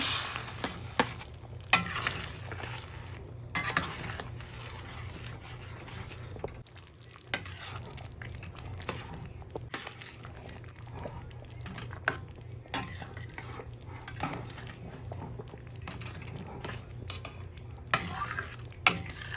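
Fish head and lentil dal stirred in a pan, a steady run of spoon scrapes against metal with a soft sizzle underneath, close and fairly quiet, with brief pauses between strokes.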